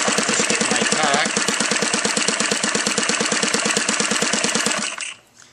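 A Saito 180 model aircraft engine converted to spark ignition idles steadily around 1050 rpm with a rapid, even putter, loud and close, then cuts out abruptly near the end.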